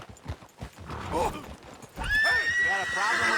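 Horse neighing in the video game Red Dead Redemption 2, a loud whinny rising midway with hoof clip-clop beneath, while voices speak throughout.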